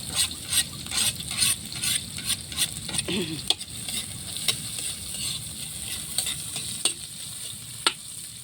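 Ginger and onion frying in a pan for spicy eel adobo in coconut milk, a steady sizzle with scraping and stirring taps of a utensil throughout, a few sharp clinks standing out.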